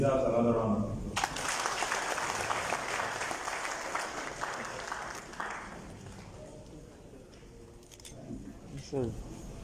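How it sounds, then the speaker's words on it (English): An audience applauding for a police commissioner at a Lagos State security event, a loud burst of clapping that gradually fades, with some voices at the end. "I think the CP deserves another round of applause."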